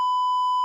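A single steady censor bleep, a pure electronic tone held for under a second, loud and alone with no talk.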